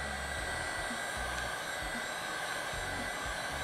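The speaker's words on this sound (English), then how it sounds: "I'm gonna use the heat gun to kind of activate some of that silicone" A heat gun blows over an acrylic paint pour containing a few drops of silicone, giving a continuous loud airy whir with a steady hum and faint rhythmic low thumps, no speech.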